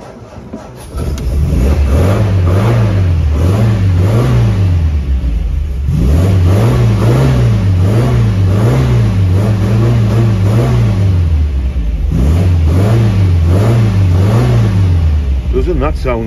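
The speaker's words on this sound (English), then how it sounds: "Doesn't that sound nice? I'll tell you what, that is one good looking MG." Classic MG car engine revving in repeated rising-and-falling bursts, loud and close, with a steady idle between the revs.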